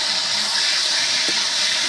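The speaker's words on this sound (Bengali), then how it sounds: "এবার আমি কচু শাকটা দিয়ে দেবো ফোড়নে।" Taro leaves go into hot oil with mustard tempering and green chillies for a fried taro-leaf and prawn dish, giving a steady, loud, close sizzling hiss that fills the whole short moment with no talk.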